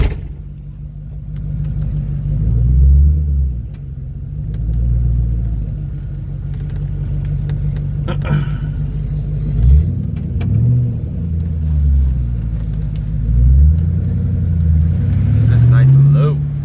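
A widebody 1969 Ford Mustang body on a 2007 Mustang GT running gear, driven around the block, its deep engine rumbling and revving in repeated rising and falling pulls, heard from inside the car while people talk.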